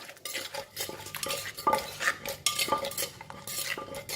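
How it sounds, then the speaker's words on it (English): Spicy Thai corn salad (somtam) ingredients with fish sauce being pounded and stirred together, giving irregular close knocks and scraping clatters of utensil against bowl with no voices. "We just pound and mix them together."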